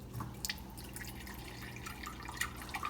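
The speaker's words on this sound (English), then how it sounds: "we just have a drip out of the faucet" Water dripping from a reverse osmosis faucet under a kitchen sink as the system is drained, faint irregular drips scattered over a low steady background.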